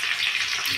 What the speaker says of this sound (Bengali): পেঁয়াজটা আমি দিয়ে দেবো তেলের ভেতরে